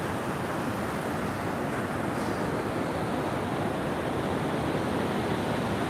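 Ocean waves wash steadily onto a San Diego beach at the water's edge, a broad, constant roar of surf and hiss close to the listener, with no pauses and no voices.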